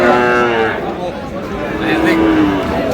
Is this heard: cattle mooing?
yes